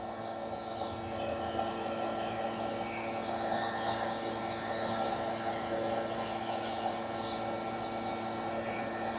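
A hair dryer blows steadily during the grooming of a Yorkie dog, a continuous close whooshing hum with a faint motor drone that holds level throughout with no talking.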